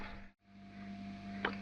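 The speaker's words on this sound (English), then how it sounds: "the fridge decided to turn on just as I was getting ready to make dinner" A camper van refrigerator hums steadily in the background, a low constant tone with a faint higher whine, briefly cutting out near the start before resuming, with a short clatter toward the end.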